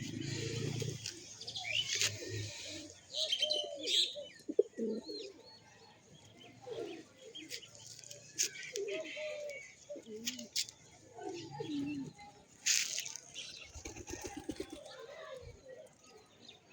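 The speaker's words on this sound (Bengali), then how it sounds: "আর এই দেখতে পাচ্ছ পায়রা" Pigeons coo in soft, rounded, throaty phrases that repeat close by, overlapping one another, with occasional higher chirps and a few sharp bursts of noise.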